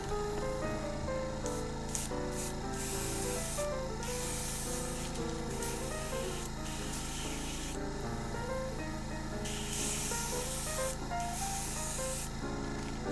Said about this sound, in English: Start up the compressor.